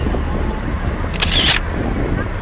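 A single short camera shutter click from a selfie being taken on a street in Sydney, heard once midway over steady outdoor background noise and wind.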